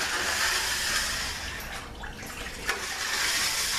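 Transmission oil drains from an 845RE transmission case in a steady, close, hissing and gurgling stream of liquid that continues throughout.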